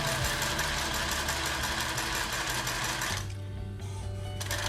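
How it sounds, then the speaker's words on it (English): Sewing machine stitching fabric in a fast, steady mechanical whir with rapid needle ticks, then a brief change in pace near the end; close and loud, no talking. "turn your fabric while you're sewing and continue to sew straight"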